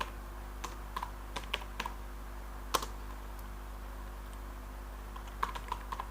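Fingers type Python code on a computer keyboard: irregular light clicks and taps, a few sharper keystrokes, over a faint steady hum in a quiet room.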